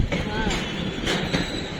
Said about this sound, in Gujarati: હવે મને એવું લાગે છે કે ટ્રેન અહીંયા ઊભી રહે છે